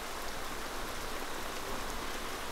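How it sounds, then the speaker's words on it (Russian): Steady rain in the sci-fi shooter Interstellar Marines, a dense even hiss of drops on surfaces filling the scene alone, with no voices over it. "Опять же дождь пошел."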